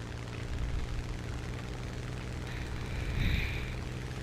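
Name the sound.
P-400 aircraft taking off, War Thunder video game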